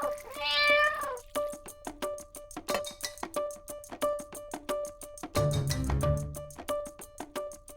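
A cat that won't drink its milk gives a drawn-out meow, then a second, rougher one a few seconds later, over a steady rhythmic ticking backdrop.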